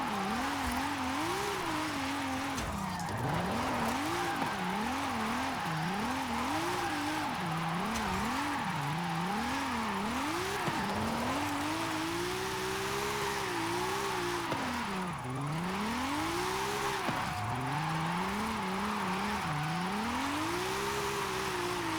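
Drift car in the Forza racing game, its engine revving up and down in long sweeping waves with tire skid noise, loud and continuous throughout.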